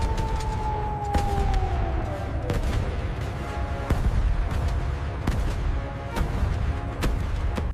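U.S. Army guns firing into the night sky during an air raid alarm, sharp cracks and booms repeating at irregular intervals over a rumbling background, with a wailing siren tone sliding downward in the first seconds.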